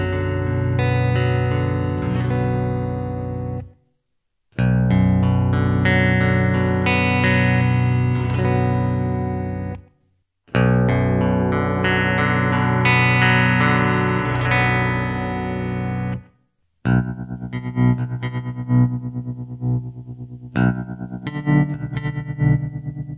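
An electric guitar runs through a Rounder Sounds Zebra-Trem tremolo pedal, strummed chords pulsing and swelling in three loud passages separated by brief silences, the last section chopped into a fast, choppy throb.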